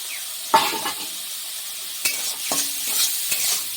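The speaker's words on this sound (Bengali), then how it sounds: "দিয়ে চিংড়িগুলো ভেজে নেব" Shrimp sizzle in hot oil with salt and turmeric, a steady hiss broken by a few sharp clinks and scrapes of stirring.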